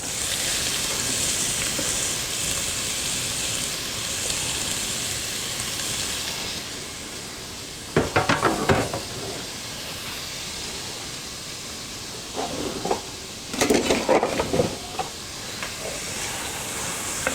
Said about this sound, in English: You're gonna drop in the onions.